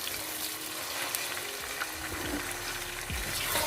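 Chicken pieces fry in a pan for restaurant-style vegetable noodles, giving a steady close sizzle with faint stirring scrapes and no voices.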